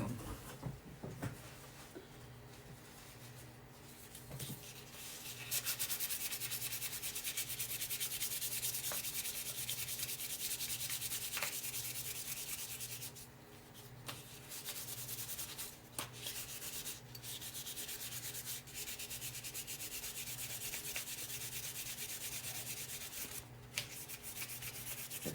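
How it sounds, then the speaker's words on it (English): Small wooden pieces for a window insert are hand-sanded in a long, steady rasping scrub, close and continuous with brief pauses, over a low background hum. "And I should have sanded these pieces."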